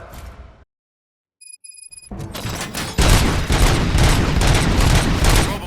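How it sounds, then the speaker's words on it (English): Gunfire erupts in the RoboCop: Rogue City video game: after a brief silence and a few electronic beeps, loud rapid bursts of automatic shots hammer continuously with booming low impacts. "Gunshots? What's going on?"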